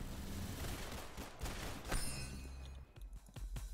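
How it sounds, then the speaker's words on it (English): Rail gun fire in a Roblox shooter game: rapid shots tapped out in quick succession over steady game noise, with a bright ringing sweep midway and a string of sharp, fairly quiet cracks at the end. "Now, this gun is a rail gun. It's got a pretty good fire rate when you tap it a lot."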